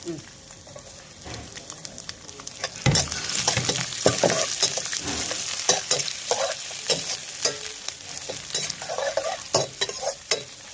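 Ginger, garlic and green chili sautéing in a pan after coconut has been browned, with a steady sizzle and repeated scraping stirs that grow louder and busier partway through, close and clear.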